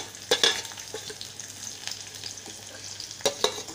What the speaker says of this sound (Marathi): आता मी कांदा घालत आहे